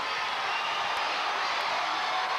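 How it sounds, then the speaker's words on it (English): A standing crowd at a 1994 high school basketball semi-state game cheers in a steady, distant roar, broad and continuous without clear individual voices. "And the crowd is getting into the ball game. Everybody standing."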